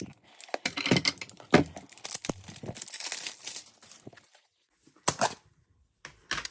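Slime packaging being cut and torn open with Hello Kitty scissors, close crinkling plastic and snipping noises in bursts, then a pause and a few short crisp snips and rustles near the end.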